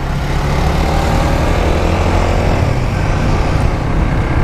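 A 2017 Suzuki GSX S150 motorcycle engine drones loudly and steadily while riding, mixed with rushing wind and no talk.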